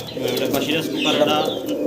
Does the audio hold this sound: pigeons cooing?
yes